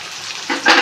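Crushed shallots, garlic and ginger frying in a pan, a steady close sizzle that swells louder toward the end, with no voices.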